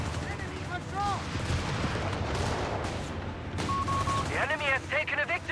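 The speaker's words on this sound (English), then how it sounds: "letting loose a flurry of 40mm auto cannon fire" A Bofors 40mm autocannon firing rapid bursts in Company of Heroes 3, a dense, continuous battle din of booming shots mixed with other gunfire and high whistling effects, loud throughout.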